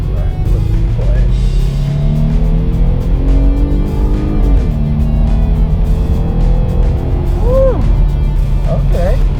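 A Jeep Gladiator Sport accelerates hard from inside the cab, its engine note climbing through rising gear pulls with a brief shift dip midway, loud and close, with voices exclaiming over the engine.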